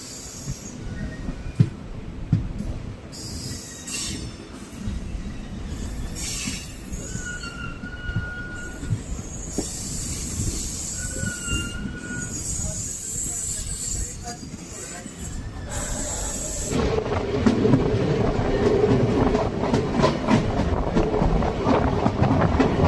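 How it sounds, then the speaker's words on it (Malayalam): A DEMU train runs on the Salem to Vriddhachalam line after branching off the main line, heard from inside as a continuous rumbling roll with wheel clatter that grows louder toward the end, while a voice talks over it. "നമ്മുടെ ട്രെയിൻ അങ്ങനെ ഇതപ്പം മെയിൻ ലൈനിൽ നിന്ന് മാറിപ്പോൾ വൃദ്ധാചലത്തോട്ടുള്ള ലൈനിലോട്ട് കയറിയിരിക്കുകയാണ്"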